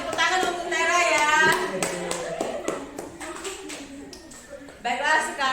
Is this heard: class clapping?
yes